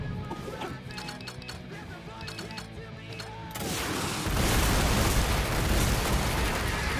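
Rockets launch and explode in the video game Sunset Overdrive: rapid bursts over game music first, then a sustained, dense roaring blast of explosions filling the second half.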